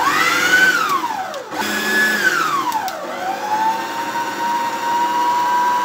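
An electric mixer churns fresh cream with a little water and salt into butter, its motor whining loudly and changing pitch in sweeping rises and falls as the speed varies, with no talk.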